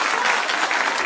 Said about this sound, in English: save the applause till the end